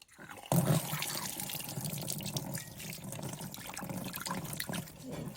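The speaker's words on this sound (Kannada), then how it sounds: "ಇದನ್ನೀಗ ನೀರು ಹಾಕಿ ತೊಳೆದ್ರೆ ಆಯಿತು" Water runs and splashes steadily while an iron pan is rinsed clean after being blackened. The flow starts suddenly and stays close and fairly loud for several seconds, with drips and trickles throughout and no talking.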